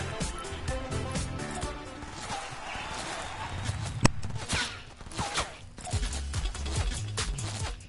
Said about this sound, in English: But who's shooting at me, bruh?